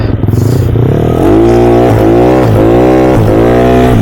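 A Yamaha Mio 160cc scooter revs hard during a wheelie, its engine loud and close, climbing and dipping in repeated surges of throttle with no voices over it.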